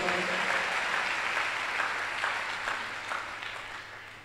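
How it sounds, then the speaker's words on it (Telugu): A church congregation applauds during a sermon, a dense, steady clatter of many hands close by that fades slightly toward the end. "చప్పట్లు కొట్టండి ఒకసారి"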